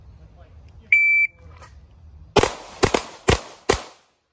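A shot timer's short electronic beep sounds once, followed by four sharp gunshots at balloon targets in quick succession on a shooting range, close and loud.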